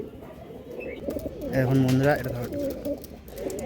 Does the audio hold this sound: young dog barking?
no